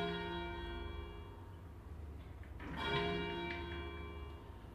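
Electronically simulated cathedral bell ringing: a sustained, shimmering peal with long ringing overtones that fills the whole stretch, swelling briefly near the middle, with no voices over it.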